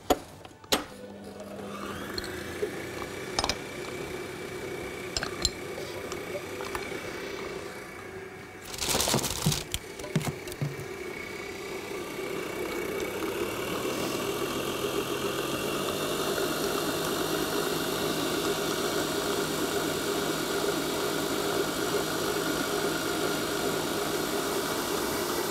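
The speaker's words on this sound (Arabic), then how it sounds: "والعجين لسه محتاج يتضرب لمدة حوالي 5 دقايق" Electric mixer beating German donut dough, starting with scattered clanks and bumps, then settling into a steady, close motor whir that runs continuously to the end.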